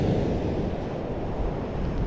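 Steady broadband roar of ocean breakers surging onto a beach where someone is sea bass fishing, continuous and fairly near, mixed with wind buffeting the microphone and no talking.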